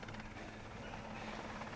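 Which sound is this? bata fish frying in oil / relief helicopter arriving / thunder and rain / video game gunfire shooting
relief helicopter arriving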